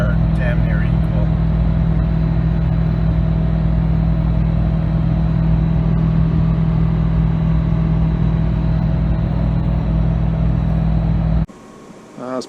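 A 2009 Ford F350 with a Detroit 4-53T turbo diesel pulls an 8% grade at about 2,400 RPM, a loud steady low rumble heard from inside the cab that cuts off abruptly near the end.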